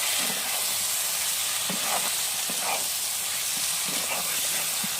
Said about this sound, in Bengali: ডালটা দিয়ে একটু নাড়াচাড়া করে জল দিয়ে দেবো